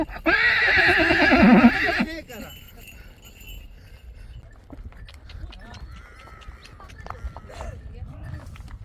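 A horse at the Zojila Pass near Sonamarg lets out one loud, close, quavering whinny. It fades into quieter outdoor ambience with faint jangling and hoof clops.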